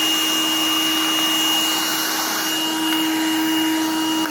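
A Black and Decker cordless hand vacuum runs with a steady, close, high-pitched whine as it picks up debris along with nuts and bolts.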